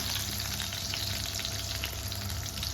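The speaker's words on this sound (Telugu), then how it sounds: "అది కొంచెం హీట్ అయిన తర్వాత సోంపు, కరివేపాకు అంతా కొంచెం కొంచెమే వేయాలండి" Fennel seeds and curry leaves frying in hot oil produce a steady, dense sizzle that continues throughout at close range, with no voices.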